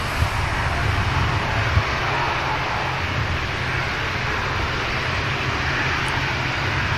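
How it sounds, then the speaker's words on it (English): An ATR turboprop lines up on the runway at Manchester Airport, its engines a steady moderate drone with a low rumbling hum and an even broadband wash, heard from a distance. "ATR just lining up."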